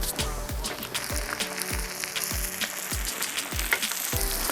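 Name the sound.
eggs with sesame and cheese frying in a pan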